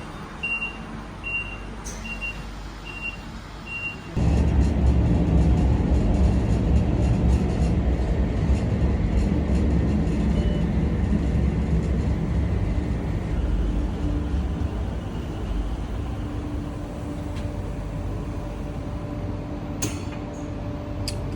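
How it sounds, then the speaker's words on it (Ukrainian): Train arriving at a railway station built into rock at Aareschlucht Ost: a loud, steady rumble sets in after a few soft beeps and holds throughout, with a faint tone rising near the end and no talking. "Ось приїхав потяг, автоматично відкриваються двері."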